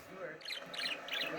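A pet bird in its cage gives three short, bright squawks in quick succession, close and fairly soft.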